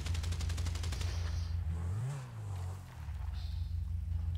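A rapid burst of gunfire from GTA V roleplay rattles out at the start, then a vehicle surges and revs past in the middle before the shooting picks up again near the end.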